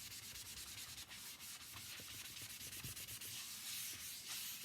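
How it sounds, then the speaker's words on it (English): A sign board scrubbed with a magic-eraser-like cleaning pad, giving a quiet, steady abrasive rubbing that continues for several seconds, close up with no talking. "Give it a little scrub."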